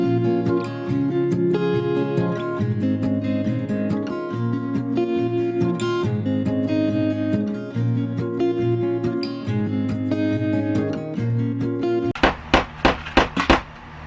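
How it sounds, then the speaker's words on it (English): Music plays steadily, then near the end comes a run of five sharp hammer strikes driving small nails into a camper wall, evenly spaced and loud. "I feel like I'm gonna break the wall with this hammer."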